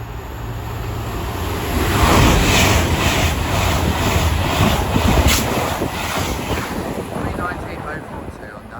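A Class 319 train passes through Watford Junction, a broad rushing roar that swells and holds, partly buried in heavy gusting wind noise on the microphone.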